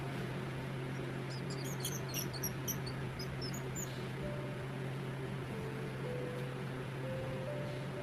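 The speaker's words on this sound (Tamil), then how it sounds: "எலி கீச்சிடும்" A mouse squeaks in a quick cluster of high, thin chirps over a steady low hum, fairly faint, then fades into constant background noise.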